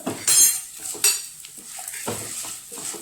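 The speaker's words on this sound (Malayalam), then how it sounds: "നന്നായി ഇളക്കുക." Spices with turmeric for lemon rice are stirred in a pan, with a spoon scraping and clinking against the metal in a few close strokes over a soft sizzle.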